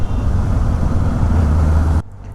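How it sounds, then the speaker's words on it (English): Heavy city traffic surrounds an idling Kawasaki Ninja ZX-4R motorcycle, making a loud continuous low rumble of engines that drops away abruptly near the end. "I'm stuck in this bad traffic"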